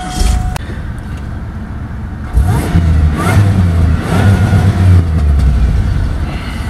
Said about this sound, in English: we're going to turn on the car so you guys can hear the engine of the car